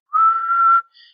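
A single human whistle imitates a gentle, soft whistling sound: one clear sustained note lasting under a second, followed by a brief fainter higher tone.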